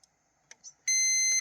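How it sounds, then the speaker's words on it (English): A multimeter on continuity gives one loud, steady electronic beep of about half a second while car fuses are checked, after a few faint clicks of the probes. "I got my meter set on ohms, and I have it set for speaker. You can hear the beep"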